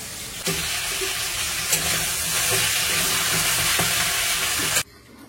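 Whole spices, dried red chillies, bay leaf and cumin, sizzle loudly in hot oil as tempering for mung dal, a steady frying hiss with occasional stirring clatter that stops abruptly near the end.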